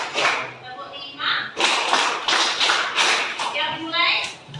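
A group clapping hands in a counted rhythm, sharp claps arriving in clustered bursts with short gaps, close and loud, mixed with voices counting along.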